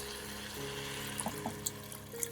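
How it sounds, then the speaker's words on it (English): Water being poured from a measuring cup into a rice cooker pot, with turmeric powder and salt, a steady soft trickling pour with a few light splashes, heard alone at low level in a home kitchen. "I'm going to add in pre-measured 8 cups of water"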